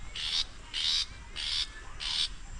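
A bird calls from a tree in the morning in four evenly spaced, repeated phrases, each lasting about half a second, moderately faint over quiet background without talk.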